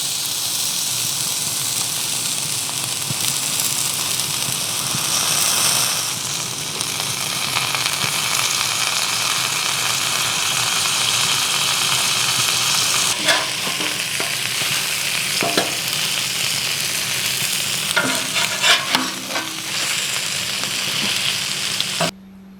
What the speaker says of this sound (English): we're just gonna press these sandwiches down and get them nice and crispy